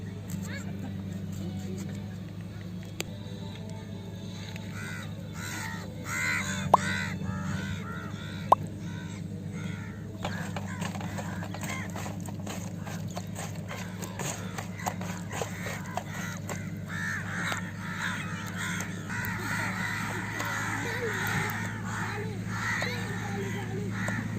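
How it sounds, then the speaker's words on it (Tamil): Crows cawing in a village setting where quail are roasted in an underground pit, scattered harsh calls over a steady low hum, with someone talking throughout and a few sharp clicks. "இங்கே பார்த்தீங்கன்னா ஒரு நூறு காக்கா மாதிரி காக்கா வந்து காடையை ஆட்டையை போகிறதுக்கு சுற்றுது"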